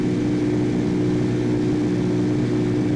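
Simulated Airbus A319 in Flight Simulator X climbing after takeoff, a steady loud jet engine drone with a constant tonal hum and no voices.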